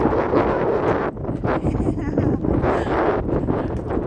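Strong wind buffets the microphone in rough, surging blasts, rising and falling throughout with a brief lull partway through.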